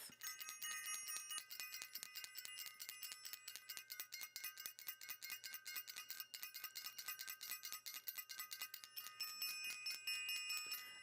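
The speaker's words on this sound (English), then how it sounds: "I want to ring the bell for Self-Invested and ring the bell for the Self-Invested workshop." A small hand bell, like a bicycle bell, is rung rapidly and continuously in a bright, dense metallic jingling that lasts throughout, loud and close with no talking.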